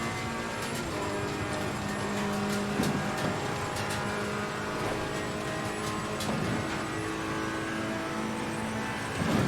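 A race car in the ACC racing video game holds a continuous high engine whine with shifting tones, punctuated by brief clicks and bumps.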